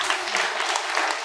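Audience applause at a live question-and-answer program, dense steady clapping filling the short moment with no talk over it.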